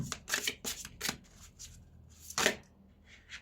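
Tarot cards are shuffled by hand to draw a single card. The brisk riffling comes in several close, crisp bursts with short pauses between them, and no one speaks.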